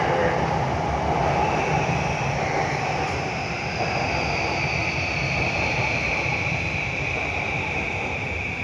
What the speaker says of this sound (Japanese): 6番線には山手線新宿渋谷方面行きの電車が到着です。